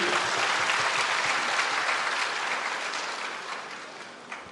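A seated audience at a government ceremony honouring NEET-qualified government school students claps in dense, sustained applause that gradually thins and fades over several seconds.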